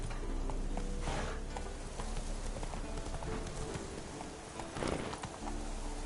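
A horse in the video game The Witcher 3 gallops in a steady rhythm of hoofbeats, close and continuous, with a few short bursts of breath or snorts mixed in.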